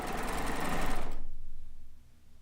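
A sewing machine pieces a quilt row, a steady fast hum for about a second that winds down and stops, leaving a quiet room.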